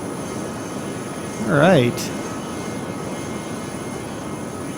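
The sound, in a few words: Bell P-59 Airacomet jet engines in flight, video game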